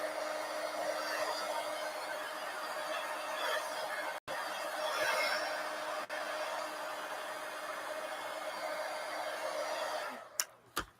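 Hair dryer blowing air onto a napkin journal page in a traveler's notebook, a steady loud whooshing hum running continuously with a brief cutoff midway, then clicking off near the end.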